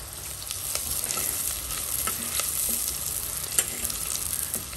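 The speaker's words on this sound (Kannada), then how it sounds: "ಅದರ ಅರ್ಧ ಮಿಕ್ಕಿರೋ ಈರುಳ್ಳಿ ಈಗ ಒಗ್ಗರಣೆಗೆ ಹಾಕಿದ್ದು" Mustard seeds, onion and curry leaves sizzle in hot oil for a Mangalorean tempering, a steady close crackle with occasional light pops and no speech.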